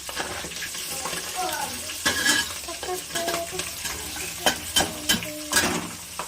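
Onions frying in a home kitchen pan while biryani is prepared, a broadband sizzle with repeated scraping stirs and clinks throughout, fairly close and steady with no talking.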